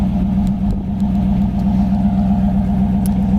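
The dual exhaust of a 1967 Ford Mustang Fastback rumbles steadily at idle, a low, even burble heard close up with no other sounds.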